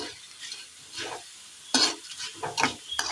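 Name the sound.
vermicelli frying in oil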